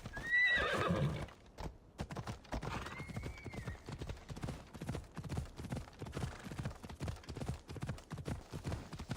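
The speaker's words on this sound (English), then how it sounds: "Horse." A horse in the video game Assassin's Creed Odyssey lets out a loud whinny at the start, then its hooves clip-clop in a steady, continuous rhythm for the rest of the clip.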